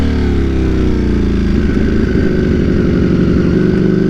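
A 200+ horsepower motorcycle engine revs loudly and close up, its pitch climbing and then settling into a rough, pulsing drone as the rider shifts gears in cold winter riding, with no talking.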